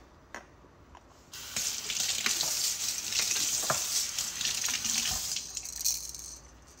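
Running water rinses plastic toy donut rings under a tap, a steady close hiss of flow with small splashes and clatters as the rings are handled, starting after a brief quiet moment and continuing alone.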